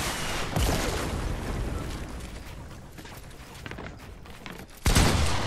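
Rapid gunfire in a Fortnite battle royale tournament match, dense and continuous bursts of shots with heavier blasts near the start and again close to the end, loud and without talk.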